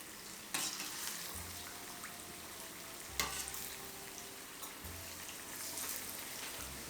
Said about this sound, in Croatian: Sada možemo staviti falafel da se prži.